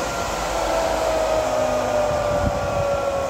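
A Nova 5 hp, 3500 rpm three-phase electric compressor motor runs steadily and loudly close by, a constant whirring drone with a faint steady whine and no talking.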